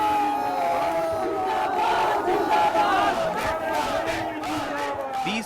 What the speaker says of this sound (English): As the helicopter touches down, on cue the frenzy erupts.